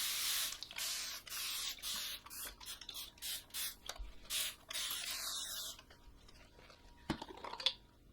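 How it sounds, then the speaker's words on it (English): A spray bottle mists a fabric-upholstered chair before painting, with about a dozen short, sharp hissing sprays in uneven rhythm close by, followed by quieter handling sounds. "let's just mist it"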